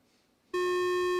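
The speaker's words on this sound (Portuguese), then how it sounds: "Um alarme, Rosa." A steady electronic alarm tone starts abruptly and holds at one loud pitch, continuous and close, with faint room noise before it begins.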